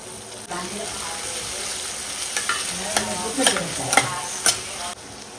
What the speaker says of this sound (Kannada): ಇವಾಗ ಒಂದು ಈರುಳ್ಳಿಯನ್ನು ಹಚ್ಚಿ ಹಾಕ್ಕೊಂಡಿದ್ದೀನಿ. ಸೊ ಈರುಳ್ಳಿ ಕೂಡ ಅಷ್ಟೇ ಚೆನ್ನಾಗಿ ಫ್ರೈ ಆಗಬೇಕು.